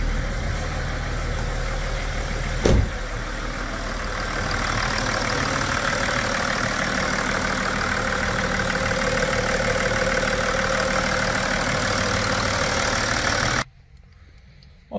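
A BMW E60 535d diesel engine idles after a turbocharger repair, running as a steady low rumble close by. There is one brief knock near the start, and the sound cuts off abruptly just before the end.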